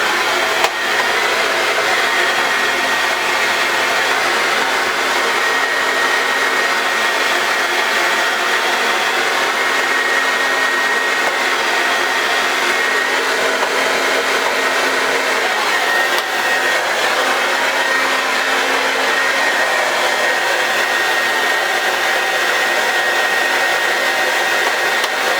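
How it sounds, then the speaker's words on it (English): A hair dryer blows steadily and loudly for the whole stretch while styling short hair into a fauxhawk pompadour, a constant close whirring rush with no talk over it. "So when I turn the dryer on, you'll see I'll be concentrating on trying to get that a little bit more streamlined"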